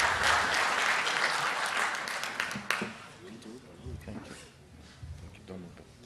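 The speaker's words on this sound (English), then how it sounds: "We can give a good clap." Audience applause at a theological symposium, loud and dense at first then thinning into scattered claps over about six seconds, with murmured voices underneath.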